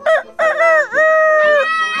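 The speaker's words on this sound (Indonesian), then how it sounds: "ayam sudah berkokok" A rooster crows once, loud and close: a couple of short rising notes, then a long drawn-out cock-a-doodle-doo call that wavers and fades at the end.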